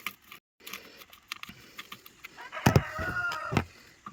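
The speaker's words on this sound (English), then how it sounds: "If you can hear my rooster, he's always after something." A farm rooster lets out a short crow with clucking in a yard during a Mighty Mule gate opener repair, moderately close, with scattered small clicks and taps around it.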